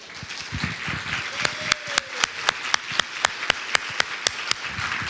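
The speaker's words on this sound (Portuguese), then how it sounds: "Você pode aplaudir a Jesus?" A crowd claps and applauds, with sharp rhythmic claps standing out toward the end, mixed with faint background voices.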